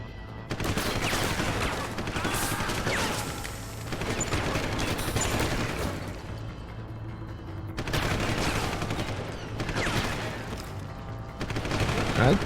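Rapid gunfire from the video game Deus Ex: Human Revolution comes in several dense bursts separated by short pauses, loud and crackling with a booming low end.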